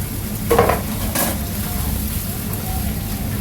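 Canned diced tomato is stirred into a simmering turkey and vegetable spaghetti sauce, with a soft continuous sizzle and a couple of brief spoon scrapes early on.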